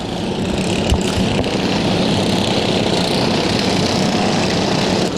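Small racing lawnmower engines roar steadily at a grass-track lawnmower race, a dense continuous drone of several machines running together, loud and without any talk.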